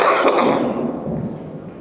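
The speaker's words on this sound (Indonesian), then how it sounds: "saya batuk-batuk" A single rough cough close by, fading out quickly with no talking.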